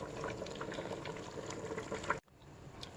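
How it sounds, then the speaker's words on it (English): Chicken meat boiling in a pot for a light soup, a steady close bubbling churn that cuts off abruptly near the end, leaving quieter faint bubbling. "Our meat has been boiling for about 20 minutes just to absorb this the flavors"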